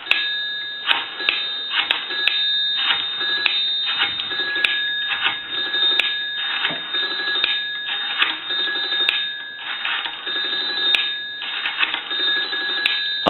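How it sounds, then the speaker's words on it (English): Three-slot payphone handset giving a steady dial tone while numbers are dialed, tone pairs beeping one after another in a quick, fairly loud series with short gaps, no talking. "I'll give you some dial tone. And now what we can do is we can dial our numbers."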